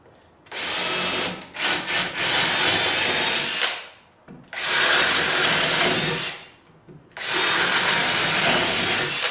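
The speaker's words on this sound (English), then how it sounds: "this is a very powerful drill" A powerful Ridgid drill whines loudly through wood in three long bursts, each spinning up and winding down, with short pauses between them.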